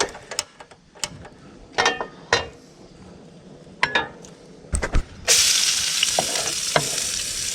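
Garlic and chili sauté in a big pan, with sharp utensil clicks and scrapes at first, then a loud, steady sizzle as the frying takes over.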